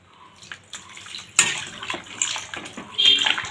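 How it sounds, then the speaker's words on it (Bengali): Water poured into a pot of jackfruit and potato curry on the stove, a close splashing pour that swells and continues for a few seconds. "এবার দেখো জল দেওয়া হয়ে গেছে"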